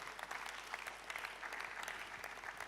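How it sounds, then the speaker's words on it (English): Audience applause after a speech at an evening church gathering, a steady dense patter of many hands, fairly faint and distant, continuing evenly throughout. "A round of applause."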